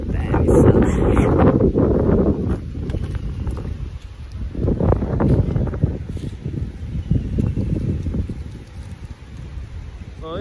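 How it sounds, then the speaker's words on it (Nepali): Wind gusts over a lake at Chitwan, buffeting the microphone with heavy low rumbling that swells and eases, while a voice speaks faintly at moments. "ताल चाहिँ यस्तो दामी हावा आइराछ के हैन"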